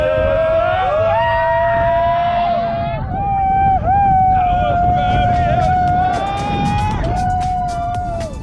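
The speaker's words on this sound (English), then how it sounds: "With our boat speeding across the water with the vast mountains as our backdrop" A motorboat speeds across open water off Tofino on Vancouver Island, its engine giving a loud, steady roar with a wavering whine riding on top throughout, close and continuous.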